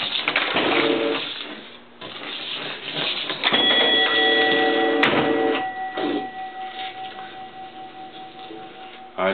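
A 1950 shuffle alley bowling machine running through its frames: loud, steady mechanical clattering and whirring with a sustained electric buzz and a few clicks, no voices.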